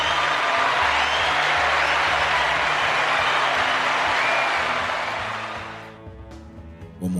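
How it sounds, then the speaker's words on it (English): Audience applause, a broad steady wash that holds for several seconds, then fades out toward the end, leaving a quieter tail with a few faint sounds. "Round of applause one more time."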